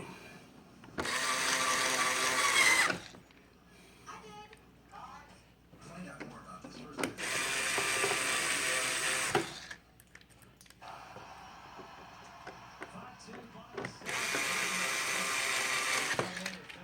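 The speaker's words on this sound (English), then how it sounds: "Again, I'm going to use the power screwdriver." A power screwdriver drives a screw into a washing machine part: three loud bursts of whirring motor, each lasting about two seconds, separated by quieter handling noises and a voice.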